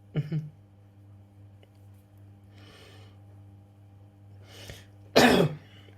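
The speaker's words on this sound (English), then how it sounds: "that's just a normal cough, not a corona cough" A person's single cough, short and fairly close, following a faint earlier throat sound, with a quiet room hum in between and no talking.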